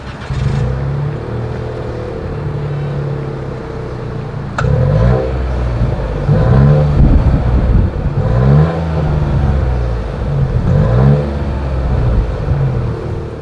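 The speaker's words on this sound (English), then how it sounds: "As always, here is that exhaust clip." A 2024 Nissan Rogue SUV idling through its single exhaust outlet, with several short revs rising and falling over a steady low rumble, fairly close and without talk.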